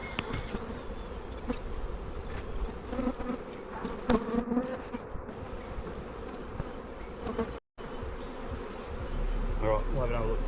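Honey bees swarm and buzz around an open hive during a frame inspection, a dense continuous hum close by with occasional handling knocks and a brief dropout near the end.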